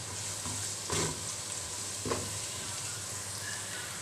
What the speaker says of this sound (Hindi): अभी लहसुन डाल रही हूँ। थोड़ा सा लहसुन को पका लेती हूँ,